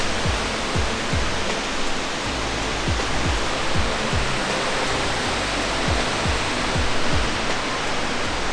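Rushing water at Tumpak Sewu waterfall in Indonesia roars as a broad, constant, loud wash, with faint low rhythmic thumps beneath it and no voices.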